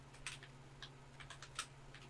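Light typing on a computer keyboard, a few quick bursts of soft key clicks over a faint steady hum, close and quiet, no talk.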